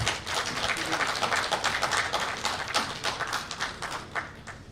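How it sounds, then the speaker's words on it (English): Audience applause in a conference hall at a national vocational education event, dense steady clapping from many hands filling the room for several seconds, fairly even in loudness. "A huge round of applause for him,"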